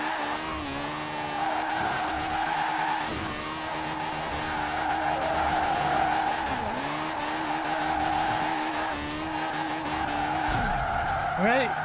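A car drifting through a drift zone in Forza Horizon 4, engine revving hard with continuous tire squeal and skidding, plus occasional thumps from wrecked fences, under a voice talking.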